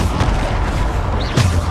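Bombarda spell blast in the video game Hogwarts Legacy, a deep booming explosion under continuous game noise, with a sharp burst near the end of the short clip.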